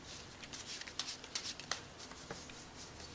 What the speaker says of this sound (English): you have them push it in, and then you shuffle the pack